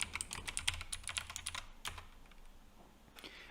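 Credentials being typed on a computer keyboard, a quick run of close, crisp key clicks with a short pause and a final few taps, no talking.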